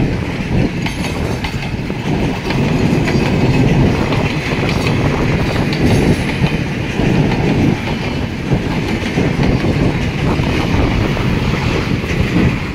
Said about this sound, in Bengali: এটা তার আগে দেখেন ট্রেন যাচ্ছে।